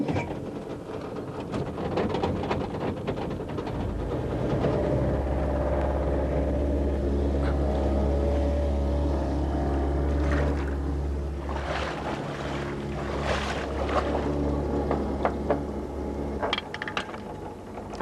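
A boat's engine starts and runs in forward gear while the boat sits on its trailer, a steady low rumble holding for about twelve seconds before easing off, with no talk over it.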